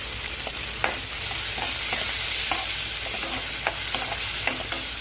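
Tomatoes fry and sizzle in a pan with salt as a spoon stirs them, giving a steady close hiss broken by repeated scraping strokes.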